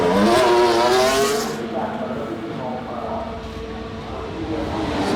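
A Formula 1 car pulls out of the garage in the pit lane, engine revving high and loud before easing to a lower drone, with a voice talking over it.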